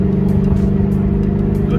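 2018 Shelby GT350 with its resonators cut out and replaced by straight pipe, a loud, steady exhaust drone with a rough, burbling edge, close by and uninterrupted by talk.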